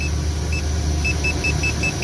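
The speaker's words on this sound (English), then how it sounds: "And you can hear the beeping" A multimeter voltage tester gives a thin, high electronic beep in short, evenly spaced bursts over a steady low hum, close and clear.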